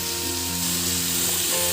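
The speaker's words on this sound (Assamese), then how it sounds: "এইখিনি ভালকৈ অলপ ভাজি ল'ম" Pork frying in a pan with salt and turmeric for a dry fry gives off a loud, steady sizzle that crackles continuously and close up, with no talking.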